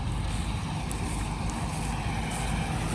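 A Panesar G60 mini combine harvester runs continuously during a wheat harvest, giving a steady, dense engine and machinery roar close by with no pauses.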